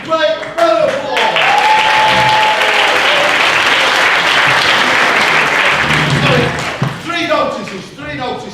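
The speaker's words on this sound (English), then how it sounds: "Round of applause." Audience bursts into loud, sustained applause with scattered cheering, building quickly after a brief voice and tapering off as talk resumes at the end.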